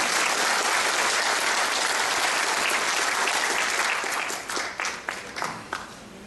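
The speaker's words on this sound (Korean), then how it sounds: "박수 좀 부탁드리겠습니다" Steady, dense applause from an audience of professors at a national university rally, sustained and fairly loud before thinning into scattered claps near the end.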